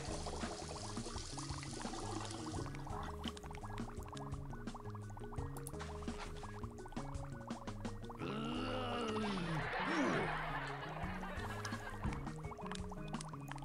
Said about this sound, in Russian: А, воду, наверное, сюда надо разливать.